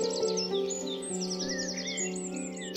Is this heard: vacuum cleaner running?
no